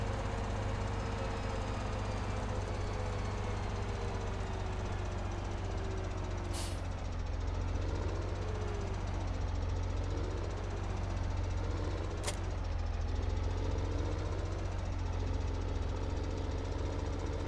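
Tractor pulling a forage wagon in Farming Simulator 17 while chopping barley, its engine a steady, heavy drone with low rumble throughout, a couple of brief sharp clicks partway through, and rising and falling load tones midway.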